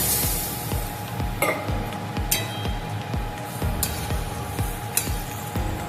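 Small chuno fish in a traditional Bengali curry crackle and sizzle in a pan, with a steady low bubbling broken by regular clinks and scrapes of a stirring spoon, close and fairly quiet, no voices.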